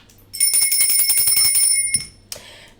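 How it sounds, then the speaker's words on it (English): Bell ringing close and loud in a rapid trilling burst of metallic rings lasting over a second, followed by a softer single ding. "where's my bell?"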